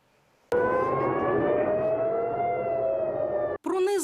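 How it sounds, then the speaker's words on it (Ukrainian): An air raid siren wails loudly and steadily over Tel Aviv with a slowly drifting pitch, sustained for about three seconds before cutting off as a voice begins. "Бурхливе виття сирени над Тель-Авівом."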